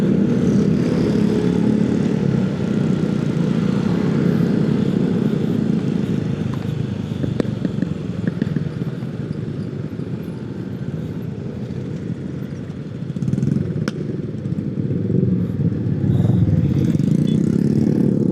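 A Yamaha NMAX Turbo scooter accelerates along a road through Alam Sutera, its engine a steady, close droning hum mixed with road and wind rush that dips briefly and then swells again.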